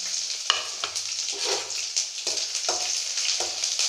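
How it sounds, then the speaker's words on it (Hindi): Ginger and green chillies frying in hot oil for a tadka, a steady bright sizzle with a few stirring scrapes and clinks against the pan, close up and without talk. "हमारा तड़का ब्राउन हो गया है।"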